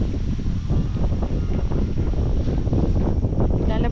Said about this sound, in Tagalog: Ang hangin. Parang uulan.